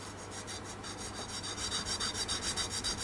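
A Tusq guitar nut being filed and polished flat on a Tanglewood WildKat setup, with close, rhythmic back-and-forth rasping strokes that grow slightly louder and more regular toward the end.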